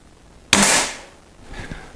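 A single sharp report from a Weihrauch HW 30 S air rifle during target shooting, loud and close, with a short decaying tail and faint clicks afterward.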